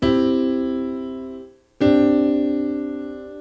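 Two sustained piano chords in C, each struck cleanly and left to ring and decay, the second entering after a short gap, with no talking over them.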